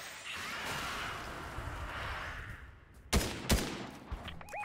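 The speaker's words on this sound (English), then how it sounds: "These guys are shooting at people." Gunfire in the video game Fortnite: a dense, rumbling spray of distant shots runs through the clip, then two sharp, louder cracks near the end.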